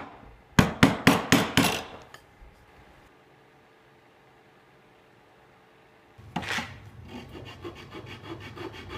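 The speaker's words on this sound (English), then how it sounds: "now I'm having to hammer them in with a scrap piece of wood" A scrap piece of wood hammers tight bushings into a cigar box guitar: a quick run of five sharp close knocks, a quiet pause, then a loud strike followed by fainter rapid tapping.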